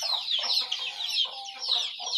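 Free-range village hens on a farm, clucking in a steady run of short, repeated calls with a few brighter notes, fairly close and continuous, with no talk.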